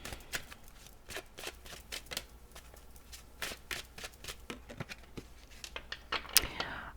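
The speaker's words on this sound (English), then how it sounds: "let me draw one more card." Tarot cards are shuffled and drawn by hand, a quick run of close, crisp riffling flicks and papery slaps, fairly quiet, ending with a sharper snap.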